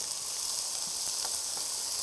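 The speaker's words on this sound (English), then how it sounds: "we can hear that sizzling of the shallots here" Chopped shallots sizzle in a hot pan with a steady, close hiss and faint pops, nothing else heard.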